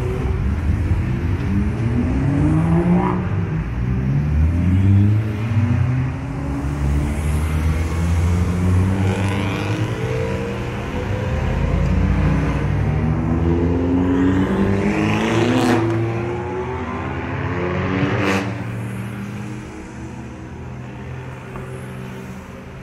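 Trackday start at the Red Bull Ring with cars including a Nissan GT-R R35 pulling away, engines rising and falling through several gear changes, fairly close at first and then receding as they accelerate off.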